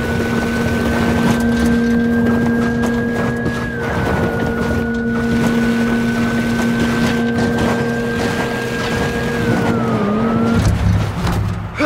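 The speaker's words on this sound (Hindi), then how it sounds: "गाड़ी चल रही है बाइक" Motorbike riding in the video game Watch Dogs 2, a steady droning engine tone that holds its pitch for long stretches and dips briefly twice, with rushing wind noise underneath.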